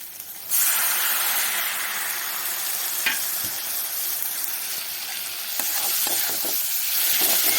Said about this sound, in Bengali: এবার সব কিছু দিয়ে আস্তে আস্তে ভাজা ভাজা করব